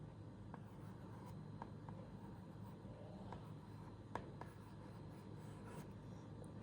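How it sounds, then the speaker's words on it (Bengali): A stylus scratches faintly across a children's writing tablet gadget in soft, intermittent strokes and taps over a quiet, steady background hiss. "যেমন এখানে আমি লিখছি,"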